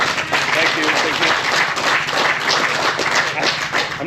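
An audience applauds at a Touratech Rally presentation: a steady, dense wash of clapping fills the room and holds at an even, fairly loud level from start to finish.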